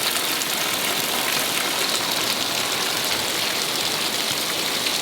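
Heavy rain falls steadily and densely nearby, a constant hiss of drops on surfaces that stays even throughout, with no voices.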